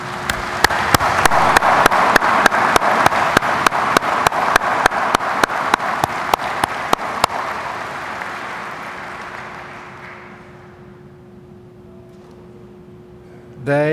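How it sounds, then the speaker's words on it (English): Sustained applause from a large audience at the American Legion National Convention, loud and steady with sharp claps standing out early on, then fading over several seconds into quiet room tone. "give them a round of applause and thanks for their service"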